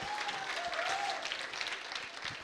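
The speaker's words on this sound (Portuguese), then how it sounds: "Salva de palmas" A church congregation claps for a round of applause during a talk about becoming a true Christian, a soft, distant wash of clapping with a faint whistle-like tone drifting through it.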